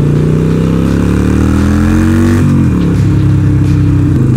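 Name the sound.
motorcycle accelerating, filmed with Sony FDR-X3000 camera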